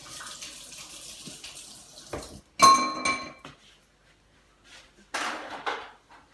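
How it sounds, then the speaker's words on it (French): Running water from a kitchen tap splashes in bursts as a whisk is rinsed, with a metallic clink between gushes and short quiet gaps. "je vais rincer un petit peu mon fouet"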